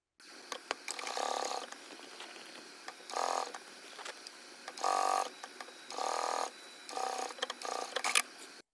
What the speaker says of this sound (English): we're going to head over to the sewing machine and stitch this down